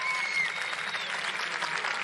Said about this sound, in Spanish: escuchamos al equipo japonés ahí aplaudiendo en las gradas de este escenario